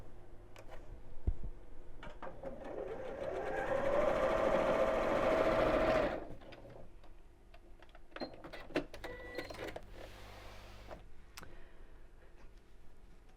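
A sewing machine runs steadily for about four seconds, stitching straight across the top of a child's drawstring backpack at a quarter-inch seam allowance, then stops, leaving quiet ticks and clicks of handling.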